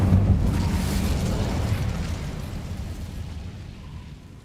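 An Incendio fire spell blast in the Hogwarts Legacy video game, a loud rumbling boom with a broad roar that slowly fades over a few seconds, with no talking.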